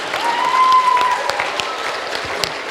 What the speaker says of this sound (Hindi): Huge round of applause guys, तालियों में कंजूसी नहीं होनी चाहिए।